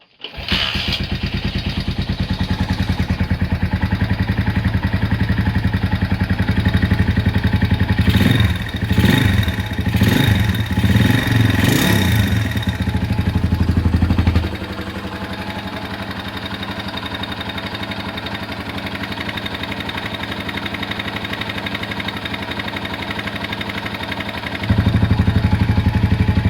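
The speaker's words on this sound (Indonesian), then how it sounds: "Ya, itu suara mesinnya gandeng ya," A noisy Honda Tiger motorcycle engine fitted to a rice mill starts and runs after a repair, leaking slightly from the camshaft cover, with a loud clattery idle, a few revs in the middle, then a quieter steady run.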